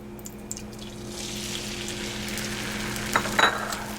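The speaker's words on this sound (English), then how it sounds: "Now once the butter has stopped foaming like this, it is now time for the eggs." Eggs poured into foamed butter in a pan for a creamy mushroom omelette, giving a steady close sizzle that swells into a broader hiss, with a few light utensil clinks near the end and no talking.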